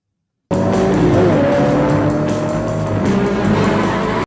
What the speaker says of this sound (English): Again, the car is so distracting.